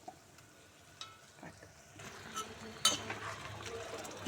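Green moong dal tadka sizzling softly in a pan with chilli flakes, crushed dried red chillies and turmeric: a quiet, low crackle, a few light clinks of a spoon, and a slightly louder sizzle swelling toward the end.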